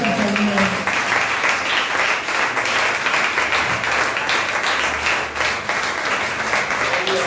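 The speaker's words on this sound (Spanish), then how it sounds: "Bríndele un fuerte aplauso al Señor." A church congregation breaks into strong applause, dense clapping from a small gathering filling the room steadily, with a faint tonal hum underneath at the start.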